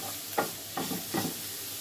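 Onion and garlic frying in a pan until reddish-brown, a soft steady sizzle with three brief stirring scrapes, quiet and close, no talking.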